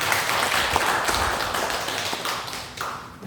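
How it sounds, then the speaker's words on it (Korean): A church congregation breaks into applause, scattered sharp claps and taps close by that thin out toward the end, with no talk over them. "우리 박수로 한번 축하하고 감사하도록 하겠습니다."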